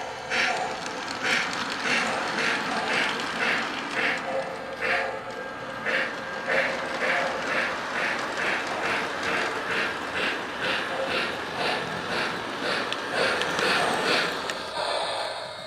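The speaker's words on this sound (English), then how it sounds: "Let's bring the train around" A toy Christmas model train runs around its track with a steady, rapid rhythmic clatter that repeats evenly throughout, moderately loud and close with no talking.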